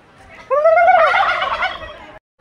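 Domestic turkeys answer calls with one loud, close, warbling gobble lasting under two seconds, with quiet before and after.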